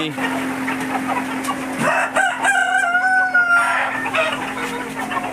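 Chickens and roosters cluck and squawk loudly and close by as they are caught by hand, with agitated calls rising and falling over a steady background hum.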